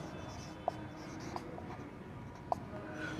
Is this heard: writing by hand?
yes